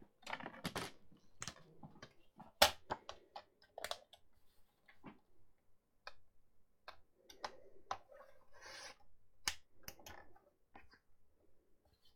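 Scissors or a craft blade trimming paper on a craft piece, producing short crisp cuts and scattered snips at close range, quiet and irregular with no talking.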